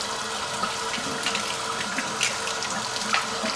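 Water running steadily from a tap as it warms up, a continuous close splashing rush into a sink, with no talk.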